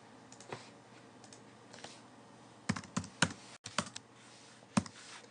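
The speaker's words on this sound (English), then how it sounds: "Type in the text." Keys clack on a computer keyboard as text is typed, in short scattered bursts with a few louder, sharper strokes near the end, close and alone with no talk.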